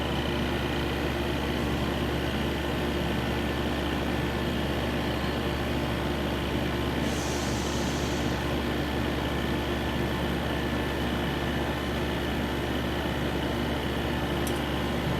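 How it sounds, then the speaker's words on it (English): The vacuum pump of a March Instruments Jupiter III RIE system runs as a loud, steady, unbroken hum and hiss throughout, with no talking. "When you turn it on, you can hear the pump kicking in."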